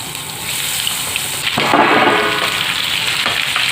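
Mango pieces dropping into hot mustard oil for a pickle, making a loud, close, continuous hiss that swells into a stronger sizzling burst partway through.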